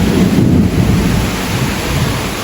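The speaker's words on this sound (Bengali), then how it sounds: "বাপরে ভালো ঝড় হইতেছে গো" A thunderstorm pours heavy rain in a dense, loud roar, with deep rolling thunder rumbling strongest early on and fading into the constant downpour.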